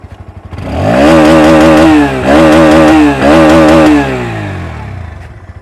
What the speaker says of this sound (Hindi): अब सुनते हैं NS160 का साउंड। ये भी लगभग उतने ही आरपीएम तक जाती है।